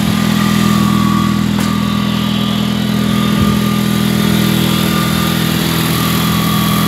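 Honda 3813 garden tractor engine running steadily and loud with the mower deck engaged, a constant close droning hum throughout with no pauses.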